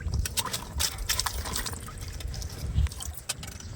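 Water splashing and trickling as tiger prawns are dropped into it at a prawn pond, a steady wet sloshing with brief gushes throughout.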